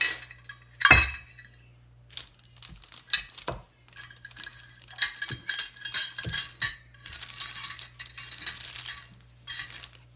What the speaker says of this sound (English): take out my birdseed, my first bag of birdseed mixture, and my measuring cups.